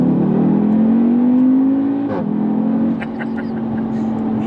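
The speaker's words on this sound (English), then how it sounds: "It does the farty noise when it changes up." A 2016 Audi TTS engine revs steadily, then its pitch drops sharply at an upshift with a crackling burst, followed by a few brief exhaust pops over the settled engine note. Nobody speaks.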